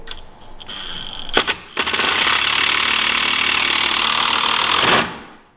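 A cordless drill whirs loudly up close, a couple of short bursts then a sustained run driving a screw into a plantation shutter joint before winding down.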